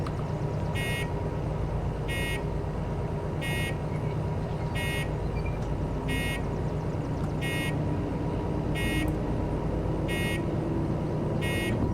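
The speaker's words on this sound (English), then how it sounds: "Turn the bell on." A locomotive bell in the Derail Valley train simulator rings at a slow, regular pace, about nine evenly spaced metallic strikes over a steady low engine rumble.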